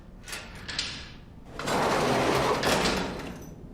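A sliding door on a spaceship in a TV drama gives a couple of short mechanical clicks, then a loud whooshing slide that swells and fades over about two seconds.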